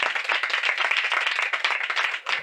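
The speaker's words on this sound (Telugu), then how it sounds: "మగపిల్లలు ఒకసారి చప్పట్లు కొట్టండి" Group of boys clapping their hands together at a church gathering, a fast, steady patter of many claps at moderate volume that briefly dips near the end.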